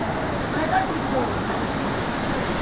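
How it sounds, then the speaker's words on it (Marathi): Water thunders down Maharashtra's tallest waterfall in a steady, unbroken broadband roar that holds at an even loudness throughout. "वरनं एकदम प्रेशरनं पाणी आलं पाहिजे."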